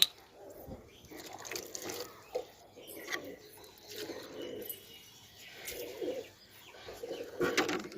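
Madrasi pigeons coo softly in a loose, intermittent series at moderate distance, mixed with scattered clicks, drips and other household noises.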